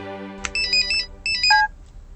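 A telephone ringtone plays two bursts of bright, rapid electronic chirps separated by a short pause. The sound is clear and close, with nobody speaking over it.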